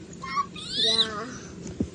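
A house cat meows with a rising, drawn-out call near the middle of the brief clip, heard close by with faint background noise and a soft thump near the end.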